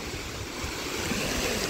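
Ocean waves meeting on a beach shore where fishermen wade through knee-deep water, a loud continuous rushing wash of surf, close and without speech.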